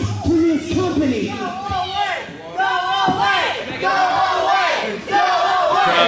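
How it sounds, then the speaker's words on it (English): A wrestling crowd at a cruiserweight championship match yelling and chanting in loud, wavering surges, dense and continuous as many voices rise and fall together. "Crowd showing their ounce of approval"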